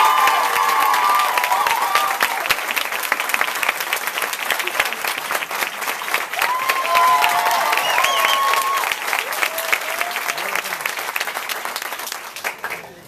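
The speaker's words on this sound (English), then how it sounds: "We need a round of applause for Laura." Graduation audience clapping in a loud, sustained round of applause, with whoops and cheers breaking over the dense clapping before it thins out and fades near the end.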